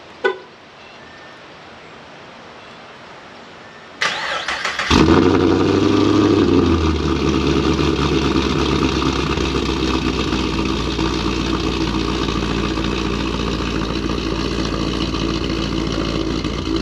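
After a quiet stretch and a click, a Pontiac G8 GT engine cranks, catches and settles into a steady, loud idle that continues to the end.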